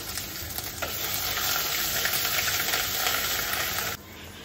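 Ginger paste being stirred and fried in a pan with black cumin, a loud, close continuous sizzle with stirring scrapes that cuts off abruptly near the end.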